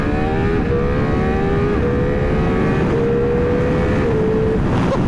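A Ducati Multistrada RS motorcycle in race mode revs hard at high speed, its engine note climbing steadily through the gears with smooth shifts, loud and continuous over heavy wind rumble.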